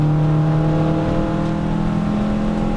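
Car accelerating on a race track at a car festival, a loud steady engine drone heard from inside the cabin with the pitch gradually rising as speed builds.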